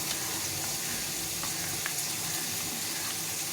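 Spice paste and tomatoes frying in a pan for a fish curry with potato and eggplant, a steady hissing sizzle with faint stirring scrapes, close and even throughout.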